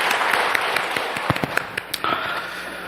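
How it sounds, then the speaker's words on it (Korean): A church congregation applauds during a Sunday service, a steady patter of many hands clapping close by, with a few sharper individual claps popping out of the even wash. "영광의 박수를 주님께 돌리십시다"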